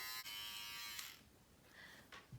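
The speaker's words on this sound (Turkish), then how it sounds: "Tıraş makinemizi açıyoruz ve hop çok bastırıp bütün saçı kesmeyin." Electric hair clipper running at home while trimming layered hair, a steady close buzz that dips and shifts as the blade meets the hair, then fades briefly before a short renewed burst.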